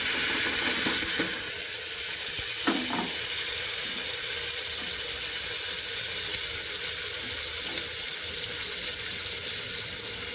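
Chopped tomatoes hit hot oil in a pan and sizzle in a steady, fairly loud hiss, with a few soft clinks of stirring and no voices.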